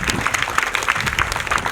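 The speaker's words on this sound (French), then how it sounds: "Ça s'applaudit déjà." An audience applauds at a farmers' meeting on moving from subsistence to commercial agriculture, a dense, even burst of many hands clapping close by.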